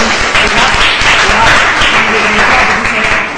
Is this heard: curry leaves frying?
no